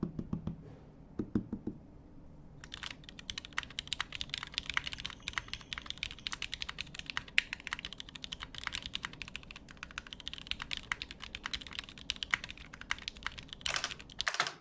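Someone runs a typing test on a mechanical keyboard with CRP keycaps. After a short pause comes fast, continuous close clicking and clacking of keys, with a few heavier thocks.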